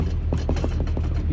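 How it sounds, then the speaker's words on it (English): Rattle inside a moving 1985 Toyota pickup extra cab SR5 4x4, quick light ticking clatters over a steady low engine and road drone, close and continuous. "It's the only thing that rattles when it's driven is there's like a rattle somewhere."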